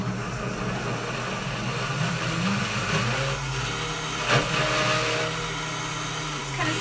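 A Vitamix blender whirs continuously as it blitzes a thick chocolate avocado pudding, its steady motor hum and churn holding at a moderate level with a brief bump partway through.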